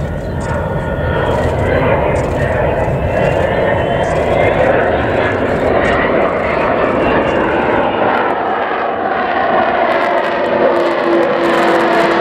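The Avro Vulcan XH558 jet bomber flies a missing man formation at the Yorkshire Air Show 2015, giving a loud, continuous engine roar with shifting tones as it passes overhead.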